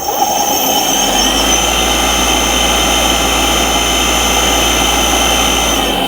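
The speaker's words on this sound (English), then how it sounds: "Looks like that slowed down the motor a little bit." An automotive alternator converted to run as a motor, fed 2 amps, produces a loud, steady, continuous whine with a low hum beneath, unchanging throughout and with no talk.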